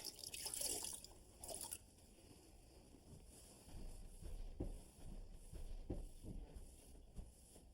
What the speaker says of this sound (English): Now I want to wipe off the excess with a sponge and a little bit of water.